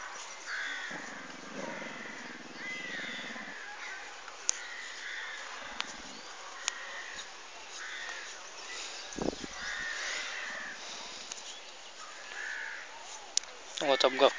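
Crows caw faintly in the distance over an outdoor beach background, with a few scattered calls and a louder burst near the end.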